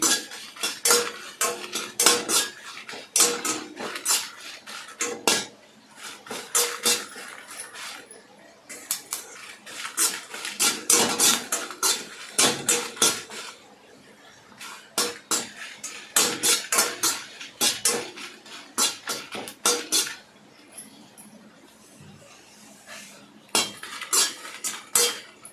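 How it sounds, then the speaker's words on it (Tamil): Dry red chillies are stirred in a pan without oil, giving repeated close metallic clinks and scrapes of a utensil against the pan in uneven bursts, with brief pauses and no talking. "இதுவும் எண்ணெய் ஊற்றக்கூடாது, எண்ணெய் ஊற்றாமல் தான் வறுக்கணும்."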